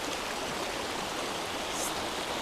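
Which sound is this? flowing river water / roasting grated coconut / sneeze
flowing river water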